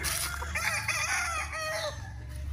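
Claret gamefowl roosters tethered on a farm crow and cluck, one loud nearby crow rising over a busy background of other birds and clucking.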